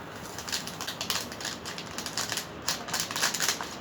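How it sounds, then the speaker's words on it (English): Quick crisp snipping and rustling sounds of scissors cutting open yeast packets, close by, in irregular bursts with no talking. "I decided to get scissors this time to make my life a lot easier"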